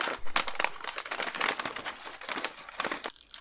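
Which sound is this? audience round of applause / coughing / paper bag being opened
paper bag being opened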